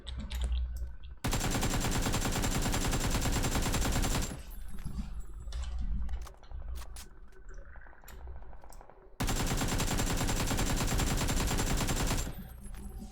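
Bursts of automatic gunfire from hip firing in the PUBG video game, two long loud sustained volleys separated by a quieter stretch of scattered shots and ambient game noise.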